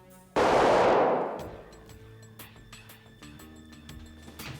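A single loud gunshot in a TV crime drama, a sharp close blast whose echo rings and decays over about a second, followed by quieter scattered clicks and rustles.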